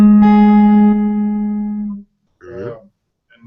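Augmented fifth triad strummed on guitar, ringing out clearly and sustaining for about two seconds before fading, followed by a short spoken murmur.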